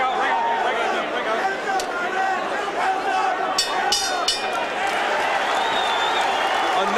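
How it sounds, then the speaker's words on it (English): A boxing arena crowd at the Roberto Duran versus Iran Barkley fight keeps up a loud, continuous roar with rhythmic chanting and scattered applause, a steady wall of massed voices. "the crowd picks up the chant of Duran's name"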